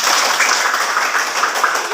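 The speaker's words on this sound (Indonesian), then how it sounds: "Oke, tepuk tangan semuanya." A class of children claps hands together, a dense, even patter of applause at close range filling the whole stretch.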